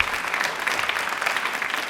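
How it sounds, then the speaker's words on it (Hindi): A crowd claps enthusiastically at a quiz event, a steady, dense round of applause held at even strength from start to finish, fairly distant in the room. "इसके लिए तालियां दिल से एक बार जोरों से बजा दीजिए।"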